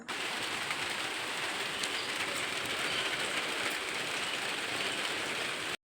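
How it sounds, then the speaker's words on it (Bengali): Steady rain falls in a continuous, even hiss that holds at the same level throughout and then stops abruptly at the end. "এই যে বৃষ্টি শুরু হয়ে গেল"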